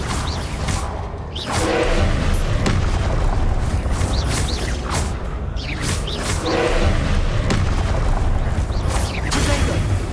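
A Confringo fire spell explodes in the Hogwarts Legacy video game, heard as dense, loud roaring blasts and rumbling booms that sustain throughout, with repeated sharp bursts layered over continuous heavy game noise.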